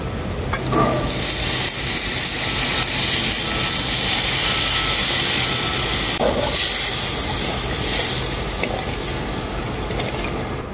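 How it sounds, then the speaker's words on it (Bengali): Water poured into hot fried masala for an egg gandharaj curry sets off a loud, steady steam-like hiss and sizzle, with a few sharper bursts as it hits the oil. "এখন আমি দিয়ে দেবো এর মধ্যে পরিমাণ মতো জল"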